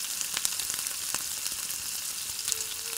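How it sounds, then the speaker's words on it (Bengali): Pointed gourd pieces fry quietly in a pan with a soft continuous sizzle and a few faint crackles and stirring taps, heard up close with no voices. "পটলটা ভেজে নিচ্ছি"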